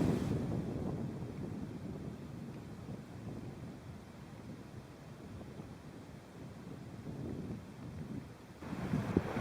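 Gusting wind buffets an open outdoor spot in spring wilderness, a steady low roar with surges near the start and end.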